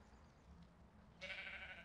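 A goat in the video game ARK Survival Evolved gives one short, faint bleat after a quiet lead-in.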